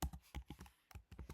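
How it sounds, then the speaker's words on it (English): Keys clatter on a computer keyboard in a quick irregular burst of soft, close clicks, with no talking. "And here we're typing in"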